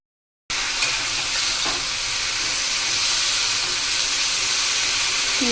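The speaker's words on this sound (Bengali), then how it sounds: "বেগুন ভাজা বসিয়ে দিয়েছি" Eggplant slices fry in a pan for neem-brinjal, giving a steady loud sizzle and hiss that begins abruptly after a short silence and continues unbroken, with a faint scrape partway through.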